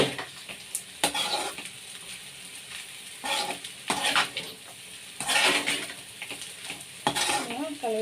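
Tamarind rice with raw mango being stirred and tossed in a pan on the stove, a constant sizzle punctuated by repeated loud scrapes and clinks of a spatula against the metal, with no speech.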